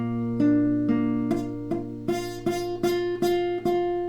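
A fifth-string barre chord on guitar strummed repeatedly, about ten times at a steady pace, each strum ringing with a slightly buzzy, rough edge; no voices.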